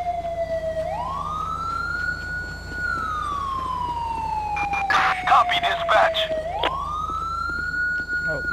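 A police car siren in GTA V with the LSPDFR mod, wailing in long rising and falling sweeps with a brief burst of rapid yelping partway through, loud over a low engine hum.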